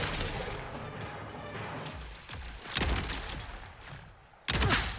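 Torgue shotgun blasts hitting a mob of enemies in a video game, loud booming shots with crashing impacts amid continuous busy game noise, a heavy blast near the end.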